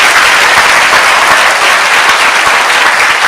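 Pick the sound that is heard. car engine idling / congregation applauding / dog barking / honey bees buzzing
congregation applauding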